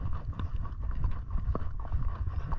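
Horse hooves clip-clop over ground on a ride through the Sahara, a steady uneven patter of footfalls, close and moderately loud, against a low rumbling background.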